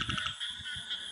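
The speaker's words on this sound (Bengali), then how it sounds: "ঝিঝি পোকার ডাক, ব্যাঙের ডাক" Frogs croak in a rural area of Munshiganj during steady rain, giving a chorus of low, rhythmic pulses. Constant high insect chirring runs beneath them, and no one speaks.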